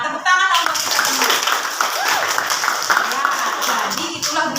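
A classroom of students clapping their hands together, a brisk, busy patter of many hands lasting several seconds with voices mixed in underneath.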